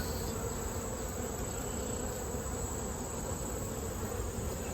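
Honeybees in an opened hive filled mostly with honey hum in a dense, continuous buzz, close and steady throughout with no speech.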